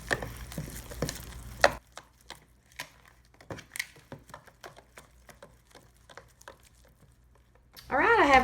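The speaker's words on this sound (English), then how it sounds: "I'm just going to stir this up." A spoon stirs cornbread batter in a bowl with light, irregular taps and scrapes, quiet and spaced out, and a voice speaks briefly at the start and again at the end.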